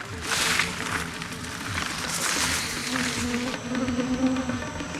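A dense, steady buzz of mosquitoes whines close by, swelling and fading over a few seconds, with a faint murmur of voices low underneath.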